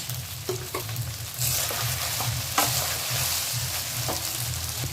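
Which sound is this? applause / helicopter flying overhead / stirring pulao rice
stirring pulao rice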